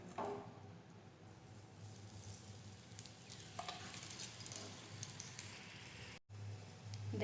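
Aloo paratha frying on a pan in oil and ghee, giving a steady, close sizzle with soft crackle that runs throughout and cuts out for a moment near the end.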